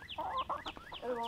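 Roosters cluck and call in short, choppy bursts close by, several birds of a flock of about six sounding in quick succession with no talk.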